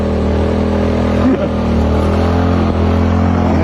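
A motorcycle engine revving loud and close as it climbs to a summit near San Francisco, a sustained droning roar with a brief dip midway, no voices.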